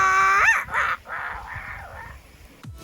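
A human voice imitates a bird call with a rising, warbling squawk that comes out more like a dinosaur, followed by a shorter rough cry and a brief tail, close and fairly loud.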